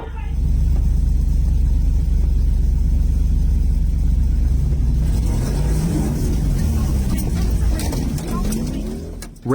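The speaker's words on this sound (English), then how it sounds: "Racing on ice always comes with risks" Cars race across a frozen surface, a heavy low engine rumble sustained throughout with revving rising toward the end, loud and close, with voices faintly mixed in.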